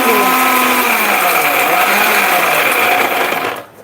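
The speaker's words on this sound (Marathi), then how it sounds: "आता हे बारीक करून घेते पाण्या पाण्याचा वापर करायचा नाही बरं का मिक्सरला" Mixer grinder grinding chili spice paste without water, a loud continuous whirring roar with wavering motor pitch that cuts off abruptly near the end.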